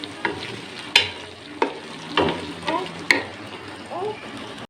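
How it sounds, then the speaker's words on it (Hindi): Carrots stir-frying in a pan for beef fried rice, with a steady sizzle and repeated scraping stirs that come in several distinct bursts, close and fairly loud. "सबसे पहले हम इसमें गाजर डालेंगे।"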